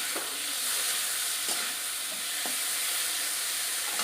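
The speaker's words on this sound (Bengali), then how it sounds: "তো পিট ও পিট করে মাছগুলো একটু ভাজা করে নিচ্ছি।" Prawns frying in oil in a pan, a steady loud sizzle with a few soft stirring knocks spaced through it, close up.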